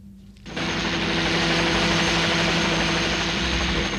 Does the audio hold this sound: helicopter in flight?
yes